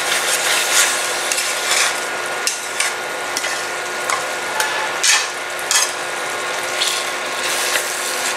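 Eggplant in yogurt gravy being stirred in an oily wok, a continuous sizzle broken by repeated clicking, scraping strokes of a utensil against the pan, close and fairly loud, no talking.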